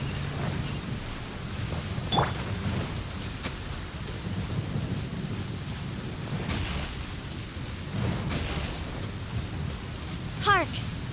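Steady rain and rumbling thunder of a thunderstorm in the video game Genshin Impact, with a few brief, sharper cracks and swells standing out over the continuous wash of rainfall.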